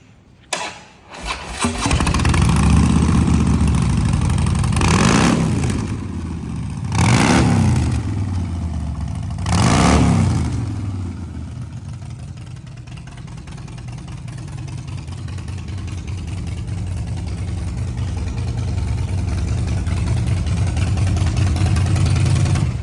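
A 2016 Harley-Davidson Softail Breakout with a Twin Cam 103 engine, 1,690 cc, starts up close by, gets three sharp throttle blips, then settles into a steady, loping idle that runs on for a long stretch with no talk.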